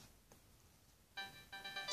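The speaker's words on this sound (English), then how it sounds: "That's actually my phone" A phone ringtone begins partway through, two short bursts of bright, tonal ringing that are fairly loud against a quiet background with no talking.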